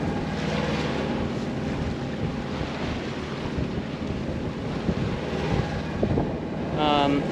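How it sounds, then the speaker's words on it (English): Steady, loud 15-knot wind gusting to 18 buffets over open water off Waikiki Beach with wave wash around a sailboat, a continuous roar throughout, with a faint voice briefly near the end. "the wind is currently blowing 15 knots, been gusting to 18"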